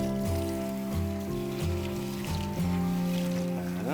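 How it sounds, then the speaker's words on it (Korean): Water runs steadily into a kitchen sink being rinsed after a scrub with sodium percarbonate, a continuous close splashing wash with music playing underneath. "이렇게 그 다음번에 이제 물로 헹궈낼 거예요"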